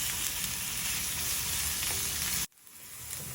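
Onions sauté for tamale filling in a pan, giving a steady, bright sizzle that cuts off abruptly near the end before a faint hiss slowly returns.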